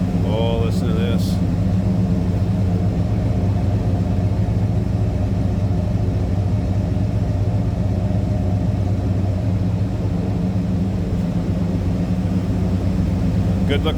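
1966 Pontiac GTO two-door hardtop with a V8 idling, a loud steady low rumble recorded close from behind the car, with a brief voice at the start.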